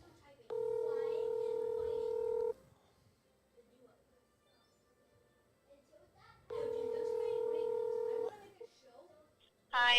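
Two bursts of a phone's dialing tones, each steady for about two seconds, ring out while calling voicemail, separated by a quiet gap with faint background shuffling and a voice starting at the very end.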